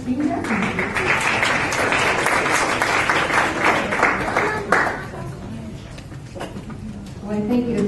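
An audience at a community school and family engagement meeting breaks into sustained, fairly loud applause to welcome a speaker. The clapping swells for about five seconds, then thins out as a voice begins to talk.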